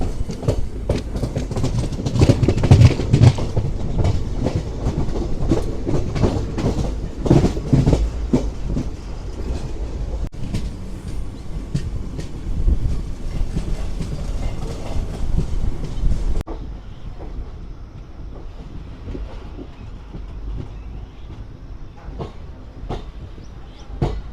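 A Charlapalli to Tirupati special fare superfast express train rolls along near Renigunta Junction, heard from inside with a steady loud rumble and rattling wheel clatter that quiets slightly toward the end.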